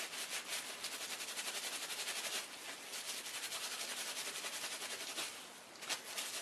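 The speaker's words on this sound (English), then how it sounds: "if you get a little piece of bubble wrap, you can rub in like that to encourage the tail to go a little bit more upwards" Bubble wrap rubbed against the felted wool tail of a needle felt bird, making a close, soft, continuous rustling and scratching that runs steadily throughout with no talking.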